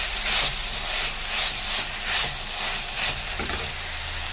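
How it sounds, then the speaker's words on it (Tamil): Pan sauté of ingredients for a banana flower (valaipoo) kara kulambu curry, giving a steady close sizzle and frying hiss with soft pulsing stirs throughout, no voices. "இது நல்லா வதங்க வைக்கலாம்."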